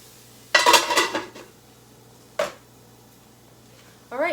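A metal lid clatters onto a cooking pot of thick asparagus, a loud jangling rattle followed by a second short clank, then a brief voice at the end.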